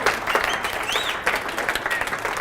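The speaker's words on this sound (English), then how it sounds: "give him a round of applause" Audience applause at a university lecture, a steady wash of clapping with scattered cheers and whoops rising over it, continuous through the short stretch.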